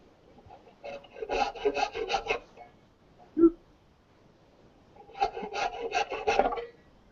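A handsaw cuts wood against a bench hook in a woodworking shop, two bursts of rhythmic back-and-forth rasping strokes separated by a pause with a single knock, close and moderately quiet.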